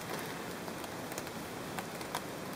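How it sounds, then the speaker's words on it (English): Rain falls on a woodland wild camp with a hammock and tarp, making a soft, steady hiss with scattered drops tapping close by, and no one speaks. "And the rain bloody on again."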